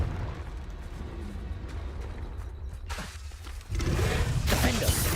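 A Confringo fire-blast spell is cast in the game Hogwarts Legacy and bursts partway through as a loud, close explosive whoosh, followed by a sustained roaring rumble. A muffled background wash comes before it.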